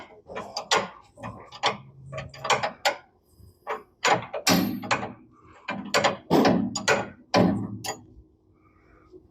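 A hammer strikes a wrench on a Jeep to break a stubborn nut loose, giving a string of sharp, irregularly spaced metallic clanks, loud and close, with short gaps between blows.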